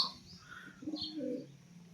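Pet pigeons kept as a small home flock give a short, soft, low coo nearby, along with a few faint higher chirps in a quiet setting.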